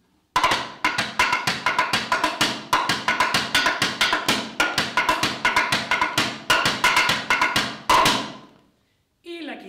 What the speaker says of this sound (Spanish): Cajita, que suena así,